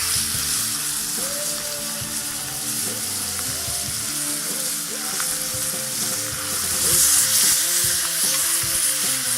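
Pork heart searing in a hot pan, giving a loud, steady sizzle and crackle that runs continuously without pause, with no talking.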